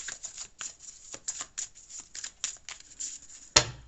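Tarot cards riffled and cut by hand in a quick burst of soft, papery flutters, ending in one sharp slap as the deck is squared, close and fairly quiet with no talking.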